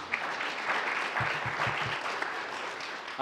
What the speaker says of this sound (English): you can clap for Lexi, that's great.